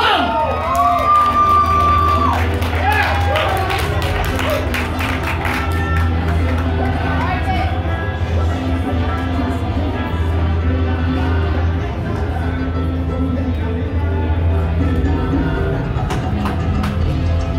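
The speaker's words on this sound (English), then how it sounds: "let's keep that applause rolling" Audience at a team poetry slam finals at an arts festival keeps up loud, sustained applause with cheers, whoops and shouts filling the whole stretch, a dense crowd roar throughout.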